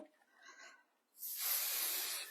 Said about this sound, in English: So I'm just going to use some